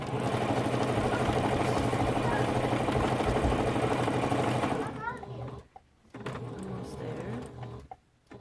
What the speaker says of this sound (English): And if you cannot see my sewing machine, I am so sorry.